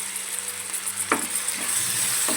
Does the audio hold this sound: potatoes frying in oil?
yes